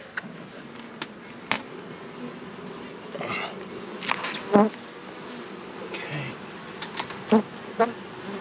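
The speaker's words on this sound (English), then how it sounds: "That is a lot of bees." Honeybees drone and buzz steadily up close at an open home hive, with a few louder individual buzzes passing by and some faint handling noises.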